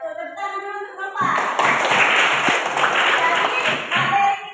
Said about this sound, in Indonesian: Tepuk tangan dulu untuk Nova.